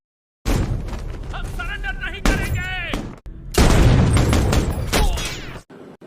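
Gunfire in a war film about rebels ambushing United Arab Emirates soldiers in a rocky hill area: loud, dense bursts of shooting with booms, heard under a narrator's voice.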